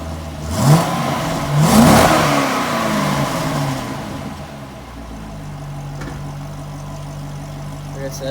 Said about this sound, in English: But I'll do a rev real quick.